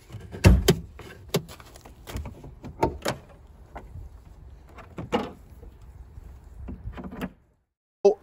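Someone opens the hood of a 2021 Ford Mustang with the 2.3 EcoBoost High Performance Package, producing a close series of sharp clicks, latch clunks and light thumps, followed by a brief quiet and a final knock.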